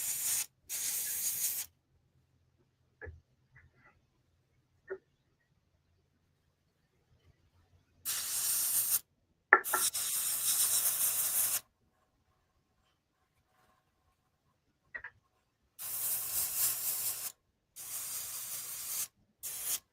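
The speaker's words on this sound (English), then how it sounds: "I still had the paint in the airbrush, so I figured I'll go ahead and spray it" Airbrush spraying gray paint on a model kit, several separate bursts of close, steady hiss lasting one to three seconds each, split by silence and a few faint clicks.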